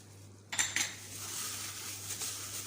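Utensil stirring salt, black pepper, nutmeg and cinnamon powder in a pot, two bright metallic clinks against the pot followed by a soft continuous scraping swirl.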